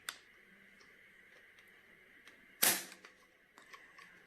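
Trigger pulls on CZ Shadow2 and Browning Hi Power pistols, measured with a Lyman trigger gauge: a small click at the start, then one sharp, loud snap midway, followed by a few faint ticks.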